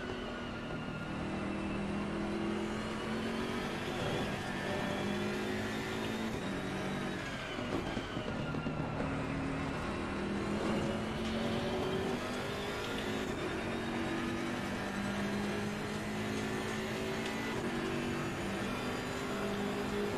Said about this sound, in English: I do like the sound of the BMW.